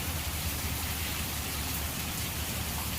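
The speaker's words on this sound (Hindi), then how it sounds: "बहुत तेज़ गरज भी रहा है, और इसके साथ तेज़ बारिश हो रही है" Heavy rain pouring steadily and close, a dense continuous hiss of drops on surfaces with no distinct thunder and no talking.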